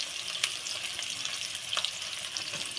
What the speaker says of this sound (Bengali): পেঁয়াজটা ভালো করে ভেজে নেব দিয়ে দেবো আদা রসুন বাটা